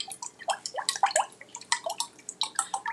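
Heavy whipping cream, Cal Dairy brand, poured close into a pot while making crème brûlée, giving a rapid run of close, bright gurgling drips and splashes with no talk.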